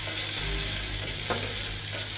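Chopped onions fry in a wok, filling the brief moment with a dense, steady hiss of hot oil, close and even, with no one speaking.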